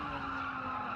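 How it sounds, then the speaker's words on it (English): Race car sliding through gravel in Gran Turismo 7, a steady continuous gritty scraping roar with a constant engine hum underneath, loud and unbroken for the whole second with no talk. "we're in the gravel already."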